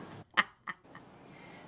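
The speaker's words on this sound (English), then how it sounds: "It's a fucking duck." Two sharp, loud duck quacks sound close by in quick succession, followed by a low, quieter background hum.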